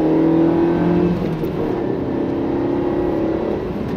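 A Suzuki Swift Sport engine holds a steady, loud rev with a sustained droning note that dips slightly then climbs again, close and continuous with no talk.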